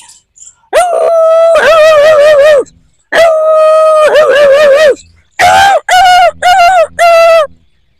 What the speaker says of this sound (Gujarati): પછી આપણે કૂતરાનો અવાજ.